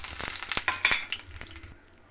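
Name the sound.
spices and bay leaf frying in hot oil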